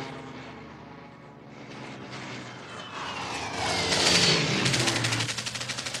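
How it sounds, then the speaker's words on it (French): An enemy airplane sound effect in an audio story: a single propeller aircraft engine drone swelling from faint to loud as it passes overhead, with rapid pulsing like machine-gun fire near the end. "Tout à coup, sur sa gauche, un avion passe."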